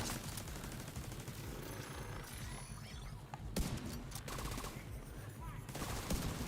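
Gunfire rattles through a firefight in The Division 2, dense overlapping shots with a few sharper sniper rifle cracks standing out, moderately loud and continuous amid busy game noise.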